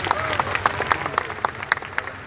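Students at a welcome event clap together in a dense, steady burst of applause, moderately loud and without a break.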